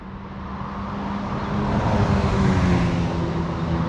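A 2023 BMW X4 M Competition's engine and quad exhaust rumble steadily near the car, a low droning tone that swells slightly in loudness partway through and holds there.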